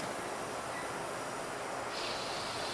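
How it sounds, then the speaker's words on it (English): Carbon dioxide gas hisses into a beer keg tank as the bag inside expands during a brewing system installation, a steady, close, unbroken rushing hiss with no talk. "you can clearly hear the air from the CO2 going into the tank"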